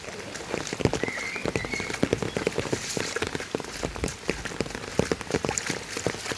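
Heavy monsoon rain in Kodagu pours down steadily, a dense close hiss of drops pattering on surfaces with many sharp splashes, loud and continuous with no talking.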